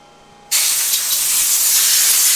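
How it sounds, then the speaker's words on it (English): A power washer blasts a rust-prepped engine block, starting abruptly after a quiet moment and then running as a steady, loud, broadband hiss of spraying water that continues without a break. "Power washer, Brian."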